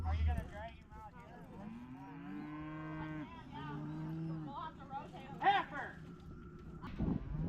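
Cattle low and moo during a ranch roundup while cows are wrangled to the ground for vaccines, several drawn-out calls at moderate distance, with people talking over and between them.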